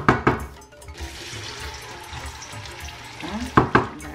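Onions drop into hot palm oil for egusi stew, with sharp splashy bursts at the start and end and a hissing fry filling the time between them.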